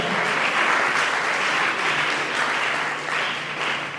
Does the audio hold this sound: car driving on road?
no